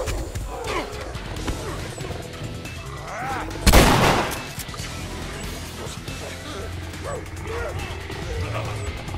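Gunfire at a Bloater in The Last of Us on Grounded mode: one loud, sharp blast stands out near the middle above a steady game-ambience bed with scattered low thuds and clatter.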